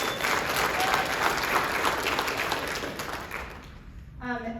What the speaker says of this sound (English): Can we please give him a round of applause for that?